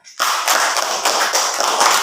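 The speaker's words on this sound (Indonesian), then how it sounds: "Mari kita beri tepuk tangan untuk anak Lira." Children in an elementary school class clap their hands for a classmate, a dense burst of close, bright claps starting sharply and continuing steadily for about two seconds, with no talking over it.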